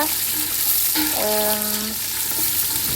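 Cloves, cardamom and cinnamon frying in oil and ghee in a pan for crab biryani, a steady close sizzle with a brief tonal clink or squeak in the middle, no talking.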